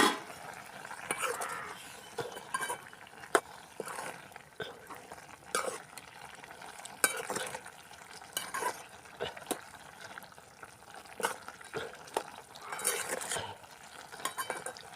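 Chillies fry in oil while being stirred, giving faint, quiet scrapes and clicks of a spoon against the pan at irregular intervals over a low, soft sizzle.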